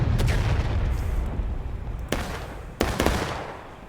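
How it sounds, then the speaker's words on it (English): Artillery shots boom out in a Civil War video game battle, with a couple of sharp loud blasts over a steady rumbling din of distant fighting. "a huge artillery shot overshooting there"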